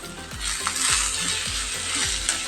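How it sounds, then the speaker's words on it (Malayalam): Onion and curry leaves sauté in a pan for a horse gram curry, a steady broadband sizzle with a few soft clinks and low thumps from stirring, close and continuous without talk. "എന്നിട്ട് ഇതിലോട്ടിട്ട് സവോളയും കറിവേപ്പിലയെല്ലാം ഇതിലോട്ടിട്ട് ഒരുമാതിരി ഒന്ന്"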